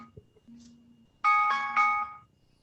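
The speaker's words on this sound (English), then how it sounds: "that was my alarm that I had set to warn me" A phone alarm goes off indoors as a short electronic chime of three bright tonal pulses, fairly loud against a quiet room with faint murmuring before it.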